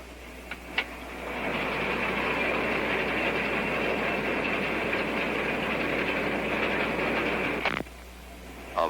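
An axial-flow combine harvester roars steadily from inside the cab with the door opened, a loud continuous mechanical drone that begins after a click and cuts off sharply near the end as the door closes.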